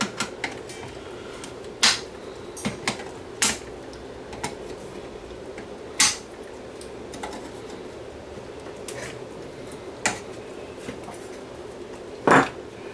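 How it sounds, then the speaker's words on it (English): Sharp metallic clicks and snips ring out at irregular intervals as pins are cut off inside a Pioneer SX240 receiver during a repair, over a low background hum. "I got to cut these pins off here."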